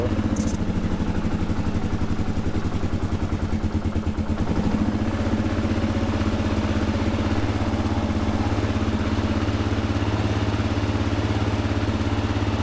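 A Kawasaki KLR650 single-cylinder motorcycle engine idles on choke with a steady, close, loud chugging thrum that keeps its even rhythm throughout.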